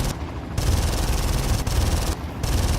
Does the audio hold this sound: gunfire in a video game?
yes